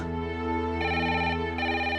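A telephone rings loudly and steadily, its electronic tone pulsing with a repeating pattern, with no voices.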